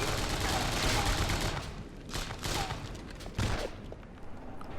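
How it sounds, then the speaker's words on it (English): Rapid gunfire bursts aimed at the player in Hellboy: The Science of Evil come as dense, noisy volleys, loudest at the start and then in shorter broken bursts, with no voices. "What is even shooting us right now?"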